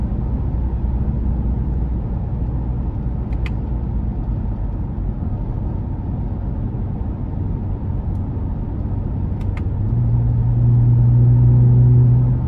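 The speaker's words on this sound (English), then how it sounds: "that exhaust note is just so nice for a Camry" 2021 Toyota Camry TRD with a 3.5 V6 in sport mode, a deep steady exhaust rumble heard from inside while cruising, swelling into a louder throaty drone near the end.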